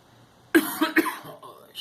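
A person with a fever coughs a few times in quick succession, close and harsh, followed by a brief breathy sound.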